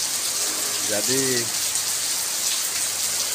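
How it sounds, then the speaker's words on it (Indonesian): Heavy rain pours at Selong Belanak beach in Lombok as a dense, loud, steady hiss, and someone speaks briefly over it. "Seperti ini hujannya guys, deras."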